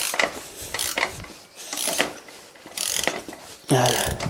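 Ratchet tightening a bolt on the front shock absorber of a 2008 Citroen C3 1.4 HDi, several quick bursts of close metallic clicking separated by short pauses.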